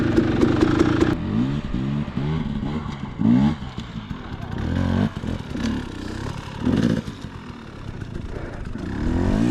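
A dirt bike engine in second gear bogs and labors on a trail, stuttering revs with rattling and clattering bursts, close and uneven, with a rider's voice briefly heard.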